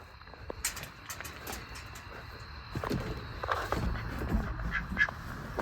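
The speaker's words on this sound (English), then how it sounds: "I hear a quack." A duck quacks several times in short scattered calls amid other farmyard fowl, fairly close over a low background hum, with no talking.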